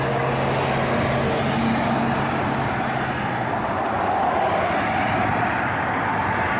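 Steady electric fuel pump hum on a Ford 6.4 Powerstroke diesel during fuel system bleeding, a constant low drone with broadband noise and a tonal whine that fades partway through.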